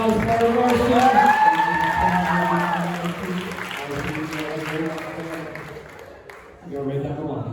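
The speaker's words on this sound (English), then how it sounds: "And a big round of applause for our Martian." A high school hypnosis show audience breaks into applause and cheering for a volunteer on stage, a broad sustained crowd wash with a whoop, while an amplified voice carries on over it.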